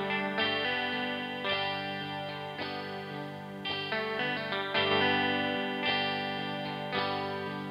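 Electric guitar through a chorus effect in the Smart Guitar app, playing a series of shimmering sustained chords that restrike about once a second, clear and alone with no voices.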